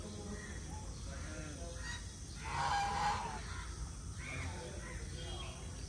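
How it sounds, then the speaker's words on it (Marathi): Large ducks call in a temple garden, giving loud honking quacks that swell around the middle. The calls sit over a steady background of outdoor crowd murmur and faint voices. "ते बदक दिसत आहेत."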